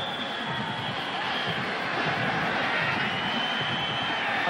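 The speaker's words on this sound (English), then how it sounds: "They got 75 guys over there trying to cheer on their second-team defense." Colorado bench players at a 1994 Oklahoma vs Colorado college football game cheer in a steady, loud crowd roar that holds throughout, with babble of many voices and no clear single speaker.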